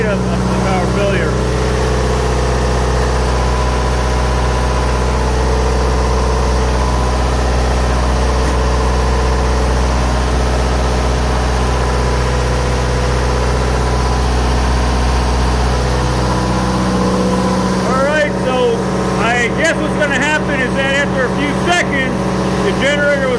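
Onan generator engine running in test mode, a steady low hum and drone that cuts out near the end, after which someone talks over the fading machinery.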